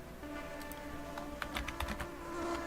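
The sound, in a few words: typing on a computer keyboard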